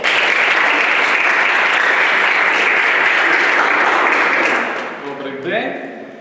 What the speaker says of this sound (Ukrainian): Бурхливими оплесками привітаємо е, першу гостю нашого сьогоднішнього ефіру